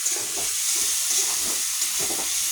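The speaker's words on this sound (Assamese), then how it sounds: "এইফালে এতিয়া মই দালিখিনি পানীটো দি দিলোঁ" Steady, loud sizzling and bubbling of red lentils frying in a pan as water is poured in, a continuous hissing crackle with faint stirring clatter, no voices.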